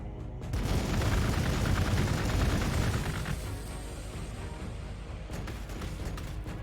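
A power strike fires in Warhammer 40k Gladius, a dense, loud rattle of gunfire that roars for several seconds. The barrage then eases into a slightly quieter, continuing burst, with no voices over it.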